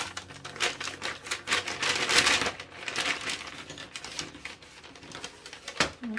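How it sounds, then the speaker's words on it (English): Crinkly plastic bag rustling in bursts, close and fairly loud, with sharp crackles rising and falling irregularly. "Sorry for the bag noise."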